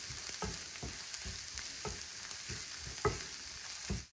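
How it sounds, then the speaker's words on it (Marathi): Red chili powder and turmeric are stirred into hot oil in a pan, giving a steady sizzle broken by repeated scraping strokes of a spoon about every half second, close and fairly loud. "हे छान मिक्स करून घ्यायचं."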